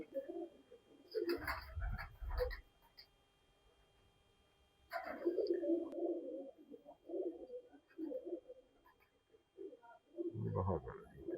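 Pigeons of a teddy breed, including a large Salara bird, coo in low bursts with pauses between them, while people talk nearby.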